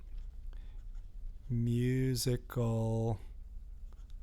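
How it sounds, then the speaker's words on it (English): Faint scratching of handwriting runs quietly at close range and is partly masked when a voice speaks a single word in the middle. "So let me write this down here."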